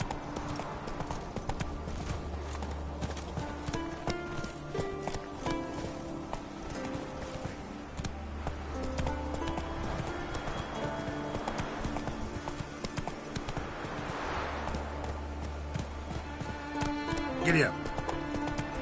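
A horse gallops in The Witcher 3 with rapid continuous hoofbeats over layered game music and ambience, a faint whinny near the end, and a person talks briefly.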